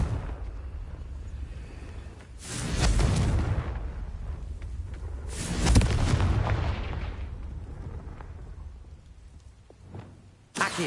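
Two heavy Confringo spell explosions in Hogwarts Legacy, each a loud booming burst with a crackling rumble that slowly decays, followed by a smaller sharp pop at the very end.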